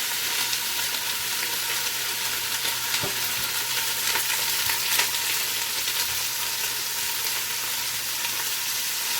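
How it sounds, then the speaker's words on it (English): Bite-sized sausage browning in olive oil in a pot for Zuppa Toscana makes a dense, continuous crackling sizzle that holds steady throughout, close and fairly loud. "You basically want to brown your sausage."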